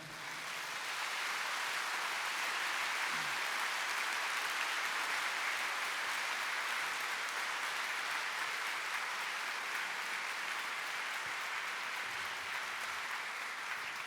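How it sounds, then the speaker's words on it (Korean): Assembly applause for the officers at a church general assembly's opening-day session and moderator installation, a broad, even roar of many hands clapping, sustained and moderately distant throughout, with no talk over it. "임원들께 박수해 드리겠습니다."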